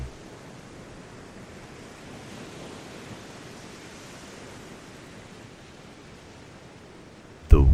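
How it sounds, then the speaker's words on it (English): Steady, soft ocean surf wash rolling on continuously at an even level, a broad hiss of distant waves with no voices, ending in a brief louder burst. "The waves slowly beginning to fade."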